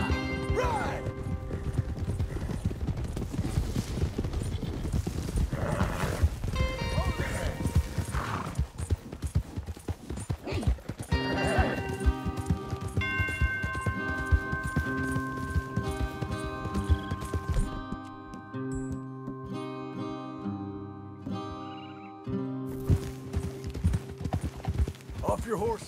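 Horses galloping in Red Dead Redemption 2, rapid clip-clop of hooves with an occasional whinny, loud and steady beneath music and voices talking.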